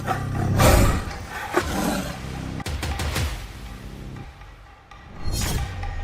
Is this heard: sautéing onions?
no